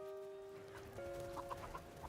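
Ptarmigan birds squawk and cluck as dogs catch them in a Switch indie video game, several bright calls repeating near the end over a steady game music drone.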